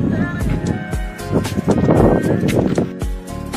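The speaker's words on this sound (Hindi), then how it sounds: "यहाँ पे अभी बहुत ही तेज हवा चल रही है" Strong wind roars across the microphone in Marpha village, Nepal, a loud continuous gusting rush that swells and dips throughout, with a voice talking over it.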